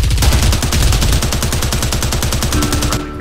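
Rapid automatic gunfire in the video game Zero Hour, a loud, close, sustained burst of evenly spaced shots for about three seconds before it cuts off.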